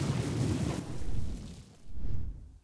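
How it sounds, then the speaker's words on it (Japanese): A volcano erupts in the video game Zelda Final Sword, a loud, continuous rumbling blast with broad noisy roar that swells in two waves before fading, with no talking over it. "あー、火山の爆発音。"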